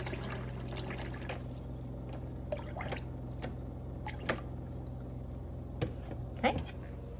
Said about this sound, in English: I'm gonna fill up my cup